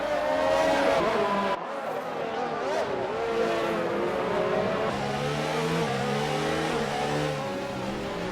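Race cars engines revving and shifting through Monaco's tight street circuit in a sim racing game, continuous loud engine whine with gear changes, braking and faint tire squeal, commentators talking over it.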